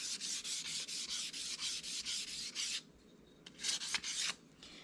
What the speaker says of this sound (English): you can take a piece of sandpaper and start sanding it to make it very, very smooth